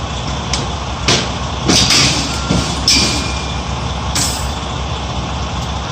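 A truck backing up after a collision rumbles steadily with a low engine drone, punctuated by sharp hisses of air brakes and faint high beeps, heard from a distance amid road noise.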